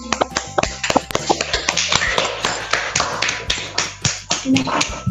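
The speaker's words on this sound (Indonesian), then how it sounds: "Tepuk tangan untuk kelompok" Classroom applause for a student group during a school lesson: scattered, uneven hand claps and taps from a small class, close and fairly loud, with talk and room noise mixed in.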